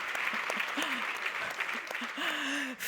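Audience applause for an 80th birthday at a public talk on loneliness in older people: steady, moderately loud clapping throughout, with a few voices calling out over it.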